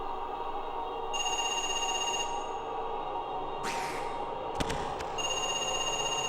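A telephone rings in the video game Parasite Eve 2, a steady electronic trill repeating in bursts over a constant background music bed, with a brief sweeping noise and a click between rings and no talking.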